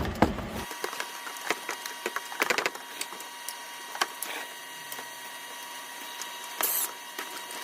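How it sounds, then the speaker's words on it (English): A 10 mm bolt is worked loose on a Dodge Caravan 3.3L engine, giving scattered close metallic clicks and ratcheting taps with a few scraping rattles amid quiet pauses, and no one speaking. "So it's gonna quickly take out this bolt right here."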